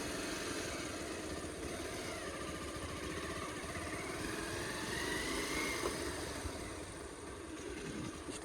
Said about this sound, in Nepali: सो अब बाइक स्टार्ट गरेर जाउँ हामी चाहिँ